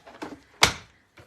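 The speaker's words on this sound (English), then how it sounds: "Let me grab my Stampin' Cut and Emboss machine" A Stampin' Cut and Emboss machine grabbed and set down, giving a few soft scrapes followed by one solid, close thump, then a faint knock at the end.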